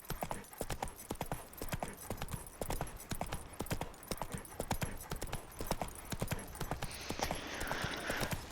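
Geralt's horse Roach gallops in The Witcher 3, a steady, rapid clip-clop of hooves close by, continuing throughout without talk.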